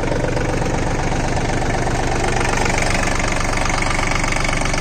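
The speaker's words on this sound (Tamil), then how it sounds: "இன்ஜின் பாருங்க, ஒரு துளி கூட நாய்ஸே இல்லை." A VST 932 mini tractor with a 30 HP Yanmar diesel engine idles close by at around 800 rpm, a steady, even mechanical chug that never changes over the span.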